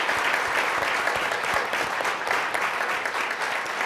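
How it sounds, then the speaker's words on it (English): An audience applauds after a panel discussion at a travel industry forecast event, steady dense clapping that carries on without a break. "Let's give everyone a round of applause"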